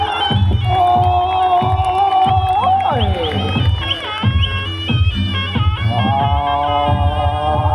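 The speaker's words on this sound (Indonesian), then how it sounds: "Beri tepuk tangan yang meriah." Crowd noise at a Singobarong performance by the Ngesti Wargo Budoyo troupe with BMTW, loud cheering and shouting over a throbbing, rhythmic gamelan-style music bed with percussion hits, continuous and close.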